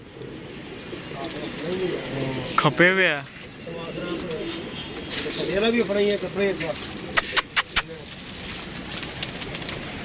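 Pigeons coo nearby in soft, throaty bursts while people talk over them, with a few sharp clicks near the end.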